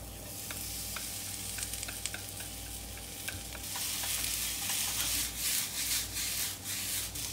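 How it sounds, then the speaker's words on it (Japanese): Sliced onions sizzle and are stirred in a pan on a portable cassette gas stove over high heat, a steady close frying hiss with scraping stirs that grows louder partway through. "今から、玉ねぎを炒めていきます"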